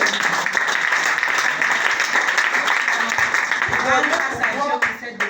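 Congregation at a church worship service applauding to acclaim the Lord, a dense, steady wash of clapping mixed with cheering voices that carries on throughout and thins slightly near the end.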